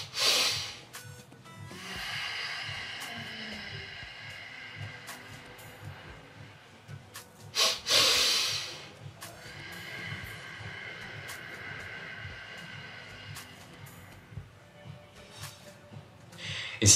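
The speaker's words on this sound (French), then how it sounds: "tu vas inspirer en 2 coups par le nez, puis tu vas expirer lentement" Two quick sniffs in through the nose followed by a long, slow exhale during a calming breathing exercise, the pattern repeating twice, close and fairly quiet with little else around it.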